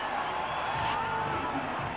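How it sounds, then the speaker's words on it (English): A cricket stadium crowd roars after a wicket falls during a 2007 India vs Sri Lanka one-day international, a dense, steady wall of cheering that stays loud through the whole moment. "And listen to the crowd."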